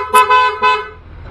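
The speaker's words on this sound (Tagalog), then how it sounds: "Horn ito." A loud aftermarket PIAA car horn blares in two short honks, a bright buzzy tone sounding close by, then fades away.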